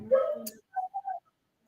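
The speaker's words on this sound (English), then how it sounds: "Sorry if you guys can hear the dog in the background." A dog whines and yelps in short high-pitched bursts, three quick whimpers following a brief vocal sound, fairly close.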